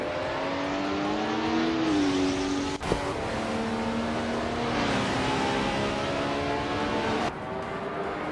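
A 1977 Porsche 936 race car in a racing video game screams through its gears, engine pitch rising and falling with one sharp shift blip, loud and continuous with no voices.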